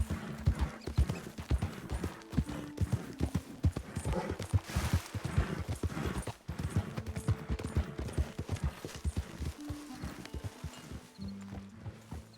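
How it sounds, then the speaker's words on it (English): Horse hooves clip-clop in a steady walking rhythm in the Red Dead Redemption 2 game, close and fairly loud for the whole stretch, with faint game voices now and then. "No horses in camp, Arthur."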